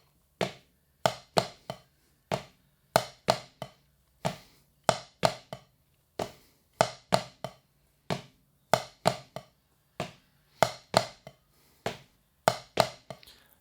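Crisp, dry hand strokes on a drum fall in steady triplets, evenly spaced and repeating alone with short pauses between each cluster.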